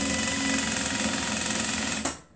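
A sewing machine back-stitches fabric for a cuddle scarf with a steady, close mechanical hum that runs for about two seconds and then cuts off.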